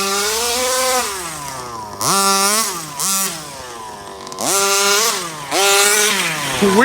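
A Rovan 34cc gas engine runs at its first start in loud, close bursts, its pitch surging up on each blip of the throttle and dropping back between revs.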